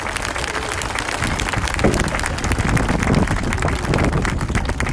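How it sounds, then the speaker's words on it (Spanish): A crowd at a Christmas tree lighting and holiday village in Tepeaca's historic centre applauds. The clapping is loud and continuous, thick with crowd noise, and carries on for several seconds without letting up. "un fuerte aplauso para nuestro querido Tepeaca"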